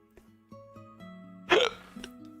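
A person hiccups about four times at a steady pace, close and clear, with a quiet tonal hum underneath and a brief louder burst in the middle.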